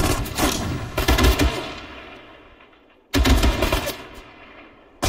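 Soldiers in the World War II strategy game Sudden Strike 4 trade loud bursts of machine-gun and rifle fire, with a dense rattle, a brief lull, and then another sharp volley.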